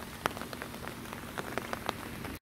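Rain falling in the evening, a steady wash of drops pattering on a surface with scattered sharper plinks and taps standing out from the hiss, fairly close and continuous throughout.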